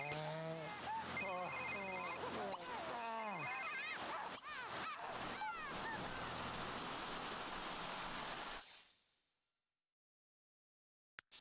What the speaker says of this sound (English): Now, getting a phone call.